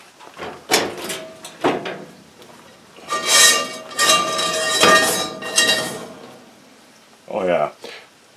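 A small Lodge cast iron skillet handled in a kitchen, a few knocks and metallic clanks with a scraping, clattering stretch in the middle, heard close and moderately loud, with a brief voice near the end.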